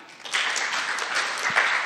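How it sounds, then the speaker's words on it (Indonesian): A youth church service group applauds Fania, light clapping that starts softly, swells quickly, and continues in a loose, uneven patter from a modest crowd in a room. "Tepuk tangan untuk Fania"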